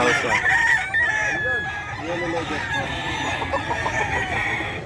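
A Sweater Gilmore gamefowl rooster crows amid other clucking chickens at a busy Bocaue pet market, a loud, close crow with a drawn-out tail, under constant crowd noise and talk.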